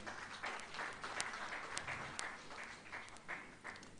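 Applause from the audience at a 25-years-of-democracy ceremony in Abuja welcoming retired General Adamu Jida, a steady, fairly faint wash of clapping with a few sharper claps, heard from a distance.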